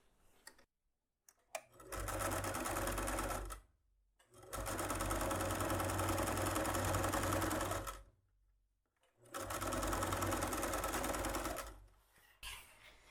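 Sewing machine stitching the lining of a makeup bag, running in three long steady bursts with short pauses between, a loud, even mechanical whir.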